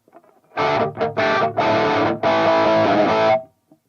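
Crunchy, overdriven electric guitar chords through a Dad Rock amp preset played dry, four chopped bursts with short gaps, then a held chord that cuts off cleanly.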